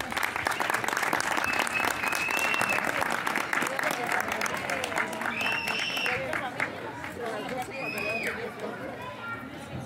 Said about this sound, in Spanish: demos un fuerte aplauso a Nuestra Señora de Guadalupe